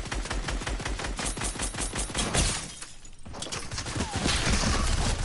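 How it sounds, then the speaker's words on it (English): Rapid gunfire in the video game Fortnite, a dense stream of loud shots that breaks briefly around the middle and then resumes, close and continuous. "Oh, shooting!"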